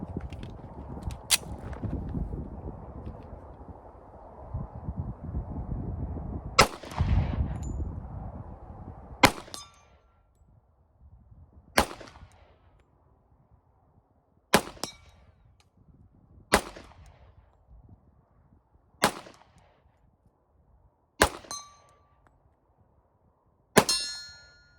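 Distant shots from a cheap 1911 pistol at an outdoor range, each followed by a ringing clang from a steel gong 50 yards away. Eight sharp reports come at irregular intervals, the first few over a rumbling background, the rest against near silence.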